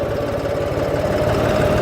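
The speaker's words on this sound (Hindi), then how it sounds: "3 नंबर गियर के अंदर भी ट्रैक्टर उठ गया है" A John Deere 5310 Gear Pro Series diesel tractor engine pulls steadily in third gear with a loud, close, continuous low throb. Rapid regular firing pulses run under a sustained mid-range hum, and no one speaks.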